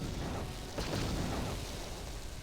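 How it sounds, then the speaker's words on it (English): Explosions in the Star Wars: Knights of the Old Republic video game, a dense rumbling wash of booms with one sharper burst, heard faintly and continuously. "Whoa, so many explosions going on."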